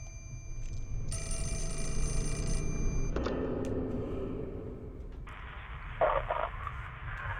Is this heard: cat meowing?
no